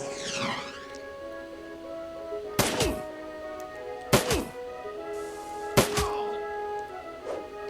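Grenade blasts in the turn-based video game Shadowrun Dragonfall: three punchy thudding explosions about a second and a half apart, set over steady in-game music.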